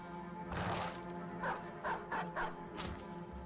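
Dogs in the video game Battle Brothers yip and bark in a quick run of short bursts over a dense, constant bed of battle noise and game music.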